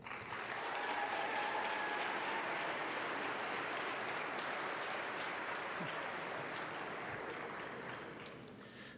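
An audience applauding an award recipient at a school honors day ceremony, steady sustained clapping from a large crowd that holds evenly for several seconds before easing slightly at the end.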